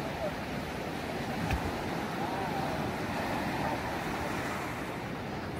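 Broad, steady wash of surf rolling onto the beach at Praia do Campeche in Florianópolis, with constant wind noise and a faint boat nearby, continuous and moderately loud throughout.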